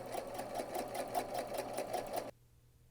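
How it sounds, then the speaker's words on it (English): Sewing machine running a regular straight-stitch seam on dress fabric, a steady rapid mechanical chatter of even pulses that stops abruptly, followed by near silence. "And I'm just doing a regular straight stitch."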